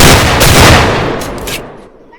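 Loud, dense burst of video game gunfire, rapid shots crowding together up close before tapering off at the end.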